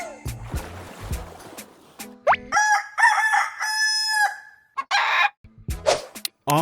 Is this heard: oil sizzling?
no